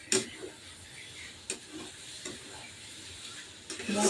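Crabs being stirred into hot spiced masala in a pan, giving a soft continuous sizzle with a few sharp scraping stir strokes at intervals, fairly quiet and with no talk.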